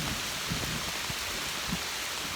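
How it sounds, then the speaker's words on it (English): Steady rain pours down on a hiking stretch of the Appalachian Trail, a dense continuous hiss with a few soft thuds and drips underneath. "Sometimes you're gonna be just walking in the rain."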